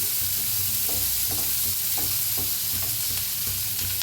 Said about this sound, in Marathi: छान असं भाजून घ्यायचं.